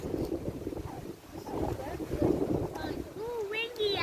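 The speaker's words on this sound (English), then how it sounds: "Ooh, windy out here." Wind gusts outdoors on a fall nature walk in East Texas, buffeting the microphone with low rumbling roar while people talk and exclaim over it.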